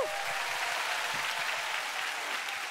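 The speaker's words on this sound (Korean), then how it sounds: "박수 한번 주세요," A studio audience at a live KBS music-show taping breaks into steady, dense applause that holds at an even level from start to finish.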